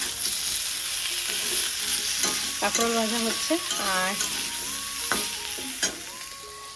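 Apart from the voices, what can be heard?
frying spiny gourd (kakrol) in a pan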